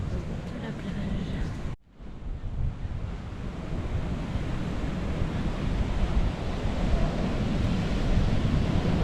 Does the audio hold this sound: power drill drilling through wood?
no